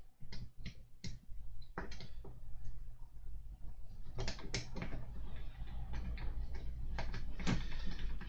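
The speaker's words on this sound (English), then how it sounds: "I just need to tighten it up. So I've got my adjustable spanner." Small metal parts of a Terminator model kit being tightened with an adjustable spanner, giving a run of close, sharp clicks and scraping taps at an irregular pace over a low steady hum.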